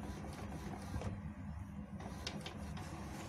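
Close by, an Epson inkjet printer finishes a job sent from an Android phone, whirring steadily with a few sharp clicks and ticks of the moving carriage, and nobody speaking.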